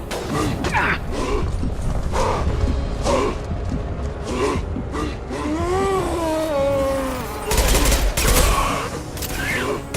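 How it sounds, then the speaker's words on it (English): Mass Effect 2 gunfire in a continuous rattling barrage of rapid shots, loud and dense throughout, with mechanical clanks and a brief tonal whine midway, plus a faint voice in the mix. "Firing now."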